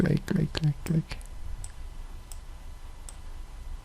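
Several sharp computer mouse clicks in quick succession, close and crisp, over a quiet room background while the person works on an animated church event flyer in After Effects.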